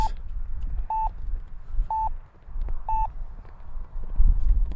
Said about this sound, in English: That's my timer anyways.